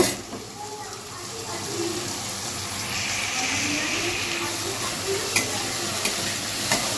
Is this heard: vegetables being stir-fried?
yes